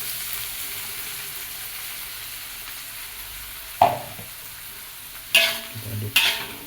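Mashed oncom fries in a pan with a steady background sizzle, broken by three sharp scrapes of a spatula stirring it near the end.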